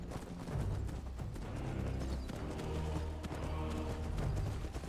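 Horse hooves clip-clopping steadily as a rider travels in the video game Apostasy, a rhythmic, moderately close trot heard alone at fairly low volume.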